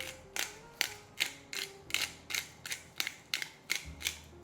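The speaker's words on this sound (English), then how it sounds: "we're going to put some cracked pepper in there, probably about ½ teaspoon or so." A pepper mill grinds cracked pepper in a kitchen with about eleven sharp, evenly spaced ratcheting crunches, close and fairly quiet.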